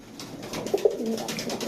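Pigeons coo steadily in a pigeon shop, several soft, throaty calls overlapping close by with a few louder notes in the middle.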